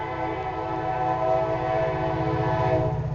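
A train horn blares continuously and loudly close by, with the rhythmic clatter of wheels on rails underneath.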